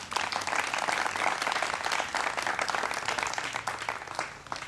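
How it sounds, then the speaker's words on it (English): A modest crowd at a public health presentation in Corry, Pennsylvania, claps for the first speaker, a steady medium-loud patter of hands with small swells and dips before thinning out at the end. "you get an applause before you go up and say what you're going to say"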